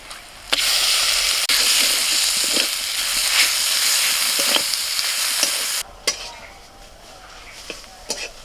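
Banana flower paste frying in a pan with onion, garlic and green chili, a loud steady sizzle broken by sharp clinks and scrapes of a stirring utensil, then quieter hissing with occasional knocks.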